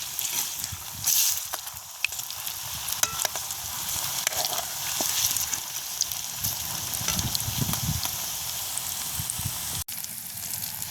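Snacks, sweet susiyam, deep frying in hot oil, giving a steady, dense sizzle and crackle that runs continuously and fairly close, with no voices.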